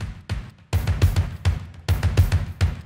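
Drum mix with a live kick played on a double pedal, rapid low kick rolls under snare cracks and washing cymbals, loud and dense with no talking.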